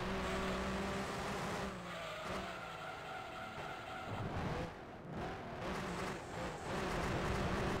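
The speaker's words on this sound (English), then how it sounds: "Thing has a loud engine." Loud race car engine from Gran Turismo 1 on a test run, droning steadily with rising and falling revs and gear shifts throughout, alone without talk.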